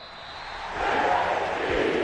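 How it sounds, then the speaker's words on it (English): Home crowd cheering and applauding in a Madden NFL 23 football stadium, a dense roar that swells louder after the first moment and holds steady. "And the home crowd applauding."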